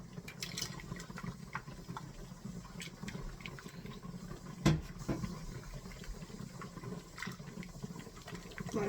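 In a home kitchen, a container used for bean soup is rinsed out under running water, a quiet continuous splashing and trickling with a single sharper knock midway.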